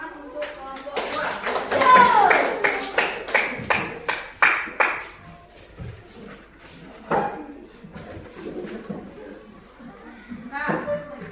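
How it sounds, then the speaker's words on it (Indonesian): A classroom of students claps for group 2 after their presentation, a quick run of sharp, rhythmic claps that fades out, followed by scattered taps, thumps and children's voices in the room. "Tepuk tangan untuk kelompok 2"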